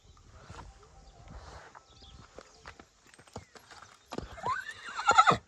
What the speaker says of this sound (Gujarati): ઘોડી તો આવી ગઈ, તમે જોવો.